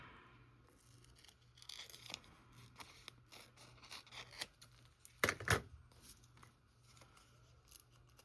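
Scissors trim paper for a reading journal spread, giving a series of soft, crisp snips and rustles close by, with a louder cluster of cuts near the end, all fairly quiet.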